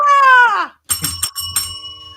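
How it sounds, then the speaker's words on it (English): A bell rung at home during a New Year's live watch party: a few bright, ringing metallic dings in quick succession, each trailing a sustained shimmer, loud and close, following a brief tonal sound at the start. "Of course, I got to ring the bell."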